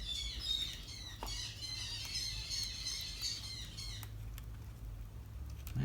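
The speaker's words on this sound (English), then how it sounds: "that's a lot of parrots" A flock of parrots squawks and chirps continuously at middle distance, a busy overlapping chatter with a few louder calls and a low steady hum underneath, no voices.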